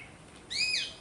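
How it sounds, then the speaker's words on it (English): A single short catbird call, a clear rising-then-falling whistled note standing out over quiet outdoor background in Thailand. "Catbird."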